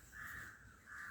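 A crow gives two drawn-out caws, fairly distant and faint, alone without other sounds.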